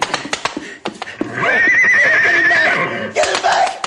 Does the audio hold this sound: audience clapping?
no